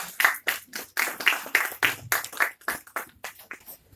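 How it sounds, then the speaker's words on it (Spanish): A small conference audience at an international academic meeting on the Mexico-United States border gives a short round of applause: sparse, distinct hand claps close by, fading out after a few seconds. "Un aplauso. ¡Bravo, bravo!"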